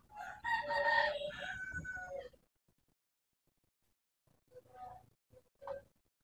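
A rooster crows loudly nearby, followed after a short silence by a few scattered clucks and calls from chickens.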